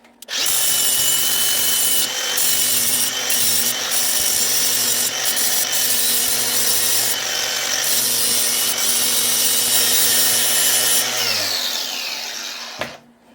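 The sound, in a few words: power sander grinding surface rust off snowmobile metal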